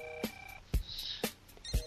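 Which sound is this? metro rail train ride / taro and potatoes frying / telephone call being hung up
telephone call being hung up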